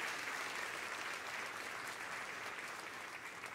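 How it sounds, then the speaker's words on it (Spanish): Steady applause from a church congregation honoring fathers on Father's Day, dense and continuous throughout at moderate loudness, with no clear voices over it. "Un aplauso para todos los papás."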